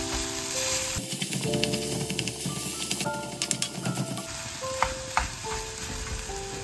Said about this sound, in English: You will have to mix it patiently till it breaks down to tiny clumps.